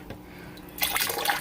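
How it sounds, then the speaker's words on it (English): Water pours into a betta fish tank, starting with a few soft drips and splashes, then a sudden loud rushing fill that runs on steadily, close by. "Okay, so now I'm just ready to start refilling my tank."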